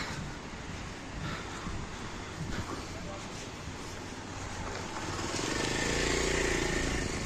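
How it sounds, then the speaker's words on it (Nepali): A motorcycle engine rumbles nearby with a steady drone that grows louder toward the end, mixed with wind and background noise. "गोकुल दाईको बाइक"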